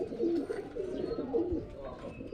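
Pigeons coo in low, soft, repeated calls beneath an outdoor hum in Carmona, a steady murmur with a faint voice at the edge.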